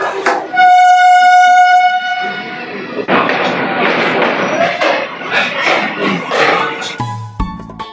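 Krishnanagar galloping local train on the Sealdah line running, with a loud sustained horn blast at the start, then steady rattling coach and track noise, and a brief clattering change near the end; voices mix into the din.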